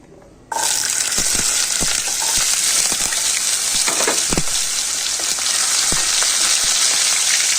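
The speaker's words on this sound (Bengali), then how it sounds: "কড়াইতে তেল দিচ্ছি, একটু বেশি করেই তেল দিচ্ছি। তেল গরম হয়ে গেছে, এবারে কচু দিচ্ছি।" Taro pieces drop into hot oil in a wok and burst into loud, steady sizzling that continues throughout, with occasional crackles and pops.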